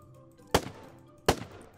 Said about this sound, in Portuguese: Calma, tem gente atirando.